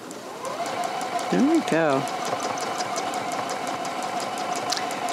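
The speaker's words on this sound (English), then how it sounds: "as you can see, that is free motion quilting" Juki DX-2000 QVP sewing machine running free-motion quilting on fabric, a steady fast mechanical hum throughout, with a short spoken remark partway through.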